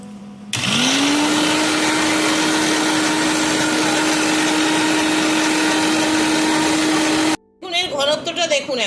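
A kitchen blender whirs steadily at high speed, whipping eggless mayonnaise for about seven seconds after a brief quiet start, then cuts off abruptly, with a voice speaking just afterward.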